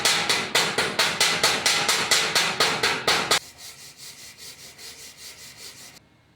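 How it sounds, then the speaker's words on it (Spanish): Hammer chipping slag off a steel weld bead on solid round bar and flat bar, a rapid run of about a dozen sharp metallic taps that then continues softer and duller before stopping. "Aquí todavía tiene la escoria, así es que vamos a limpiarlo a ver qué tal nos quedó el cordón."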